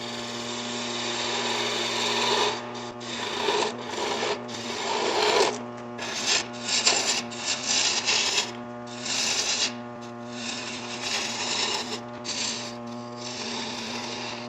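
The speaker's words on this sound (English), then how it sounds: "So we'll start off with just bowl gouge, take off a little more material on these." Bowl gouge cutting wood on a lathe while turning a wig stand, a steady humming motor tone under rough, scraping cuts that swell and fade in uneven passes, close up with no talking.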